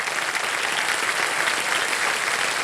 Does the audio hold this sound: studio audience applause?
yes